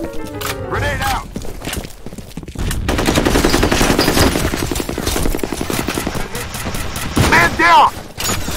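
Gunfire from the F.E.A.R. Combat video game rattles in a sustained, rapid automatic burst, with booming blasts and shouting game voices around it.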